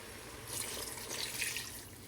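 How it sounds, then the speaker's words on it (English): Two cups of water pour briefly into a pot of chicken cooking with chicken bouillon, a soft close splashing hiss rising and settling within a couple of seconds. "I'm just gonna add the 2 cups of water right now."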